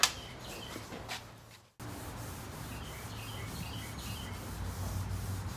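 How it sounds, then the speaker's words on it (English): Steady, scratchy sanding rasps over a car roof being block-sanded level, soft and continuous, broken by one brief silent gap, with faint birdsong in the background. "now we're sanding the roof down, getting it leveled, getting it blocked"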